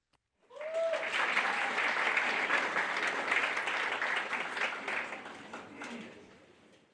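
An audience applauds at a physical therapy white coat ceremony: dense, sustained clapping from a large crowd runs for about six seconds, with a voice briefly audible at the start, then tapers off.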